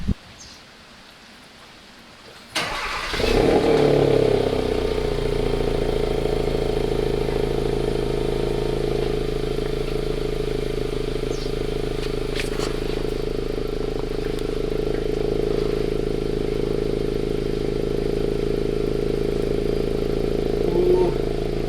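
A Hyundai Elantra GT N Line fitted with a Veloster N valved muffler starts up with a loud flare, then settles into a steady, deep exhaust idle that rumbles on close by.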